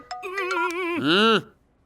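A phone ringtone plays a short tonal melody of quick chiming notes, then rises into a swelling electronic tone before cutting off, close and clear.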